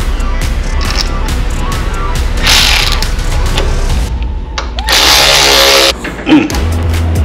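A ratchet drives master cylinder screws on a Harley, with rapid close clicking in short runs and two louder bursts of turning, plus metallic clinks between them.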